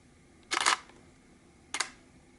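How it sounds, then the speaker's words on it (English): A Nikon D7100 fitted with a Neewer battery grip fires its shutter twice, each release a sharp mechanical clack of the mirror and shutter, the second shorter, with a quiet pause between them. "the shutter button is working properly"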